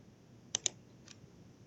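Two quick, faint computer clicks come close together on a quiet desk while logging in to a website, followed by a softer third click.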